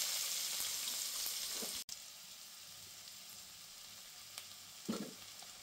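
Sliced onions fry in oil and ghee with a steady, bright sizzle, stirred now and then with a couple of soft scraping knocks, close and fairly quiet, with no voices.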